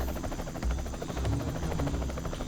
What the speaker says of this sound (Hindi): वो देखो, हेलीकॉप्टर